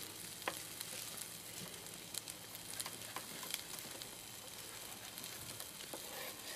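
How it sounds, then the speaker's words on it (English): Chopped ingredients sizzle in a pan with spring onions for a Thai green curry, giving a steady, fairly quiet crackling fry with a few sharper pops and no talking. "That's going in the pan with the spring onions."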